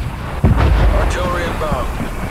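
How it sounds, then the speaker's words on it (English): Deep rumbling artillery-strike explosions in Call of Duty Black Ops Cold War hardcore free-for-all gameplay, a heavy boom rolling into sustained low roar, with faint game chatter over it. "Artillery inbound."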